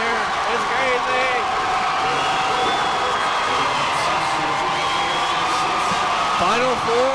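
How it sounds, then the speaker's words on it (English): A packed gym crowd roars after the game-winning play in a 3A state basketball quarterfinal between Sabino and Ganado, a steady loud cheer with whoops, while a commentator talks over it. "Listen to this crowd, ladies and gentlemen. It's crazy in here."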